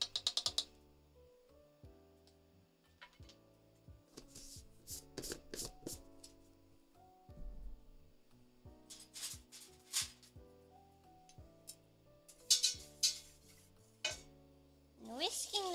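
Cornstarch mixture for a coffee cake whisked in a bowl: quick rhythmic taps and scrapes in irregular bursts, close and fairly quiet, alone with no voices.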